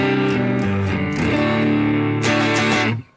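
A distorted electric guitar played dry through a Line 6 Pod Go with no reverb rings out in a few sustained chords and notes, harmonically rich, then cuts off abruptly near the end with no tail.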